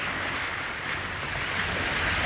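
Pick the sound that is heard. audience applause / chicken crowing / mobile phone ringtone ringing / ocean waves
ocean waves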